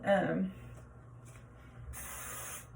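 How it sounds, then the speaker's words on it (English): Shine spray hisses onto hair in one short, close burst, followed by a faint softer spray and a light brushing rustle. "So I just spray it everywhere that I'm gonna kind of curl or put heat on."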